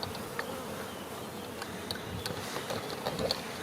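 Honeybees swarm and buzz around an opened hive during a smoked spring inspection, a dense, steady drone close by with a few individual bees zipping past, and no voices.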